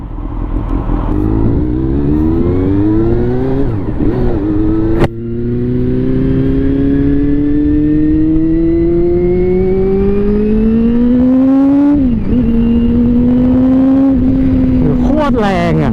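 A Honda CBR400 NC29 motorcycle accelerates hard through the gears, its engine whine climbing in pitch, dropping at each shift and climbing again, loud and close throughout.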